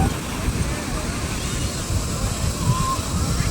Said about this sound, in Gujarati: બાકી મોજા જોરદાર આવે છે.